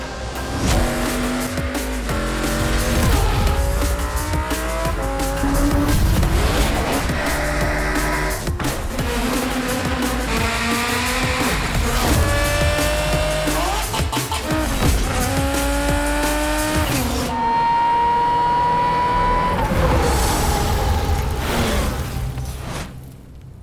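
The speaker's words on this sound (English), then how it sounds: "letting Stig go wild in the world's loudest cars" A BRM supercharged V16 Formula 1 car runs loud inside an old tunnel, its screaming engine rising and falling through repeated gear shifts and sustained high-revving runs, echoing off the walls without speech.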